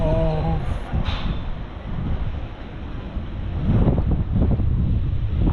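Steady, blustery wind buffets the microphone atop the Roman amphitheatre at El Jem, Tunisia, with a low roaring rush that swells stronger toward the end, with faint open-air ambience behind it.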